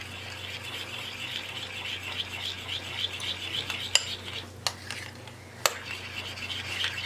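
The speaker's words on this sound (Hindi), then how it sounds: "अब हम इनको मिक्स करेंगे। अलग अलग स्पून से मिक्स कीजिएगा।" Spoons mixing colored batches of homemade rainbow ice cream, a soft continuous scraping and swirling in bowls with a few sharp clinks of spoon on bowl, close and fairly quiet, no talk.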